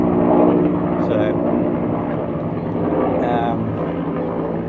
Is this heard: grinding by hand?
no